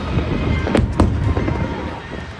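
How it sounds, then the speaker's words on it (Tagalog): Fireworks at a temple festival in Lukang, Taiwan, burst in sharp booming cracks over a continuous crowd murmur, several close explosions in quick succession. "Mabubusog yung mata mo sa ganda ng mga pasabog ng fireworks nila."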